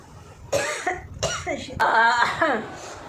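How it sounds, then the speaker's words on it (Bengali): A person coughs sharply, with short harsh bursts mixed among spoken words in a close, strained voice. "এমন কাশি এসে গেছে চোখ জল বেরিয়ে গেছে"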